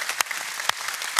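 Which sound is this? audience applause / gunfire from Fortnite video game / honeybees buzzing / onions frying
audience applause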